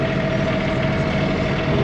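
A mowing tractor sits idling nearby with a loud, steady engine rumble and a constant droning hum, unbroken and with no voices.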